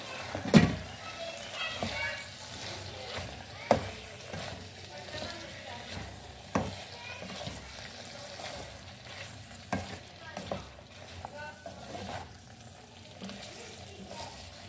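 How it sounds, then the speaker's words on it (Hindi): Chicken, capsicum and onion are stirred in a sizzling frying pan, with a steady frying hiss broken by several sharp spatula scrapes and clanks against the pan, heard close up. "अब इसको हम अच्छे से हिला लेंगे, मिक्स कर लेंगे।"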